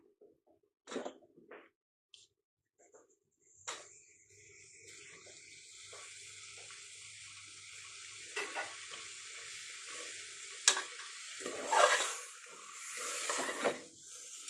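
Chicken pieces drop into a pan of masala for shorba, then a hissing sizzle builds and runs steadily under occasional clatters and stirring scrapes, close and moderately quiet with no talk.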